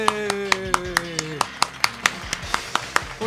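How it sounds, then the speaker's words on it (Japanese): Synthesized applause in a GameCube quiz game: a steady run of sharp, evenly spaced claps rings over a sustained musical tone, moderately loud throughout. "もう一度大きな拍手をお願いします。"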